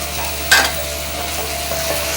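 Fried squid is tossed and stirred into a hot pan of darkening, browning sauce for chilli squid, giving a scraping stir with a brief louder clatter near the start over a continuous soft sizzle.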